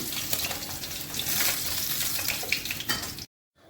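Rohu fish fillets sizzling in hot oil in a home kitchen pan, a steady close crackling hiss that cuts off abruptly near the end.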